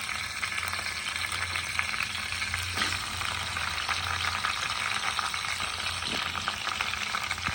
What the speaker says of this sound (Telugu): జీలకర్ర వేసి ఆనియన్స్ మనం కట్ చేసుకున్నాం కదా, ఆనియన్ పీసెస్ ఇందులోకి వేద్దాం.